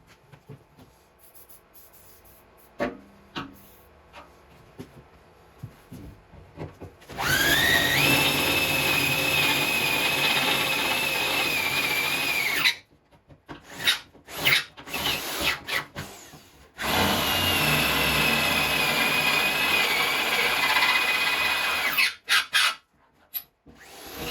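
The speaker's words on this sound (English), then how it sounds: "Drill kicks back." A power drill whines loudly in two long sustained runs, separated by short bursts, clicks and handling noises, with quieter rustling before the first run.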